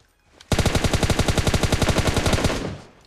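Rapid automatic gunfire from the mobile shooter PUBG Mobile: one loud, close, sustained burst of tightly spaced shots that starts abruptly, runs a couple of seconds and then tails off, with no voices over it.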